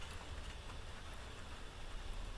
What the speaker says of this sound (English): I cannot believe the noise the rain is making